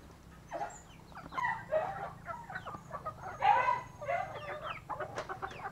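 Chickens cluck and murmur softly at an evening feeding, several birds overlapping in short irregular calls against a quiet background, fairly faint and unhurried.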